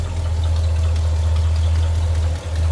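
The 289 V8 in a 1965 Ford Galaxie 500 convertible idles steadily with a deep, even rumble. It runs smoothly and closely miked for nearly three seconds, with no voices.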